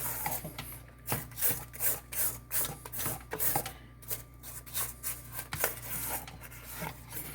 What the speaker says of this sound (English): Alright, we're scraping down.